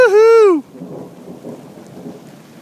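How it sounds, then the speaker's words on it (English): A mountain rainstorm at Kennedy Meadows, with a soft, steady wash of rain and low rumbling after a brief loud tonal sound at the start. "Lightning and thunder, big time."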